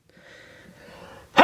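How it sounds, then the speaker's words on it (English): One abrupt sneeze comes from a person sitting at a table unboxing action figures. It bursts out loudly at the very end after a second of soft breathy hiss. "excuse me, I had to sneeze there."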